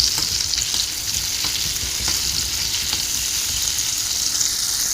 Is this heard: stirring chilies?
yes